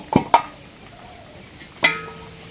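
Vegetable khichuri being stirred in a pot after its lid is lifted, a few sharp metallic clinks and scrapes of spoon against pot, close by, with quiet gaps between them.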